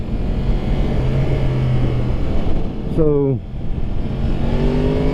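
A 2021 Yamaha R1 motorcycle engine revs while riding, whining upward in pitch and then dropping sharply as it shifts, before climbing again, with someone talking over the engine noise.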